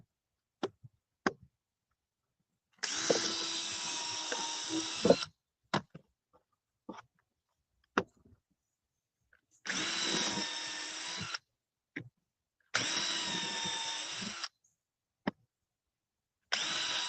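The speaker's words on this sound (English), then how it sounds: "I didn't even check and see if this drill bit I use was wider than the thread of these screws." Power drill driving screws into wood while building a DIY garden bed, three sustained whirring bursts of a few seconds each, separated by short sharp clicks and knocks, close and fairly loud with no talking.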